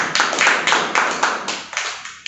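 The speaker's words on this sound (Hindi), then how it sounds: "आपसे पुनः निवेदन करता हूँ भाई धीरपाल सिंह जी का तालियों से स्वागत" Studio audience applauds to welcome guest Dheerpal Singh at a Hindi poetry gathering, a dense burst of clapping that swells in quick repeated waves over about two seconds before cutting off.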